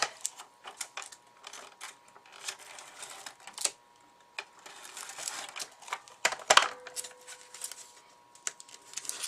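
Tape being pulled and pressed onto a handmade Father's Day card, a series of soft crinkly taps, rips and clicks with one sharper tearing burst midway, close and quiet.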